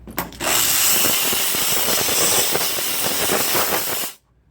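A steam cleaner blasting a ruby and diamond ring at a jeweler's bench, a loud continuous hiss with faint rattling that runs for about four seconds and stops abruptly.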